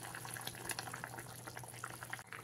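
Egg curry gravy with potato bubbling steadily in a pot, a continuous close, moderately loud simmering burble with small pops throughout and no voices.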